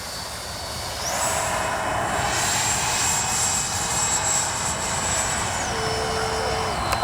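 A Freewing JAS-39 Gripen 80mm electric ducted-fan RC jet flies overhead on an evening sortie, its high, loud whine swelling and holding steady, the pitch climbing and later dropping as it passes.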